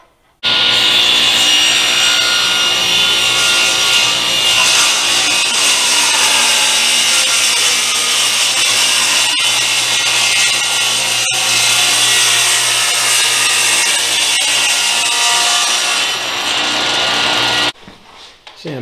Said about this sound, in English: putting this thing through the large drum sander, and that glue really kills